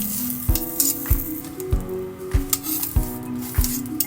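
Naan dough cooking on a preheated iron frying pan over medium heat, a steady sizzle broken by regular soft thumps and squishy presses about every half second, close and clear with no talk.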